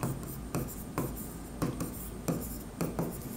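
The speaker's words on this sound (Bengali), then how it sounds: "তাহলে এখানে লিখি নগদান হিসাব।" Pen writing a cash account into a paper ledger, steady close scratching with regular stroke bursts roughly every half second, no voices.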